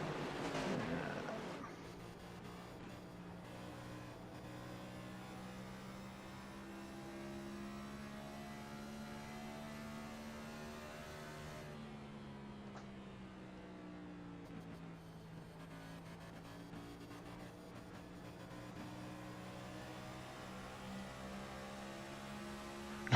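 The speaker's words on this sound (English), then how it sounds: "I might jump on board with Barry and just sort of have a listen to the car" Race car engine drone heard onboard at Nashville Super Speedway, a steady harmonic hum rising and falling gently over a long stretch, fairly quiet and muffled.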